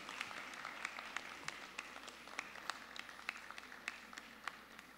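An audience at a college of pharmacy white coat ceremony applauds in a large hall, a faint, distant wash of many hands with scattered sharper claps standing out, steady for several seconds.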